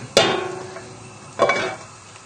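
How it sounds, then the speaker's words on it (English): Butter melts in a pan while being swirled around, giving two brief scraping, sizzling strokes about a second apart, fairly faint and close with no talking. "So we just need the butter to melt, so just swirl the butter around the pan"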